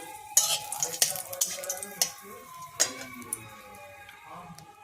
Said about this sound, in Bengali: এরপর ওই তেলেই শুকনো লঙ্কা ফোড়ন দিলাম